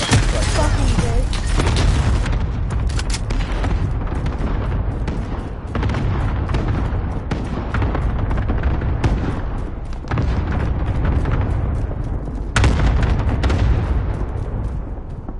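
Cluster strike explosions in Call of Duty: Modern Warfare, a long loud barrage of booming blasts and gunfire rumbling nearly nonstop, with a fresh heavy burst near the end and voices faintly underneath.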